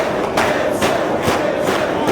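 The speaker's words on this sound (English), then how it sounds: "Listen to this crowd encourage Gibson to keep fighting." A pro wrestling arena crowd roars and chants in encouragement for James Gibson during an ROH Redemption match, loud rhythmic surges of cheering rising and falling over a continuous crowd din.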